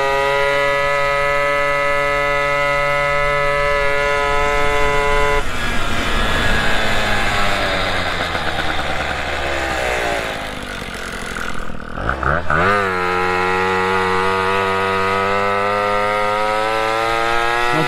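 Small moped engine on a road test, fitted with performance parts, revving hard with a loud nasal buzz that climbs and falls in pitch, dips sharply around the twelfth second, then surges back up steadily.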